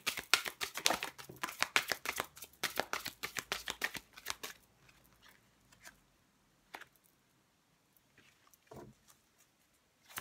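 Tarot cards being shuffled, a rapid run of crisp riffling flutters for about four seconds, close and fairly quiet, then fading to a few sparse taps and soft card movements.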